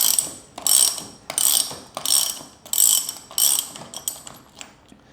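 Repeated ratcheting clicks from a wrench working loose the rear drive wheel nut on a Go Go Endurance AL+ mobility scooter, about seven short bursts in a steady back-and-forth rhythm, close and fairly loud with no talking.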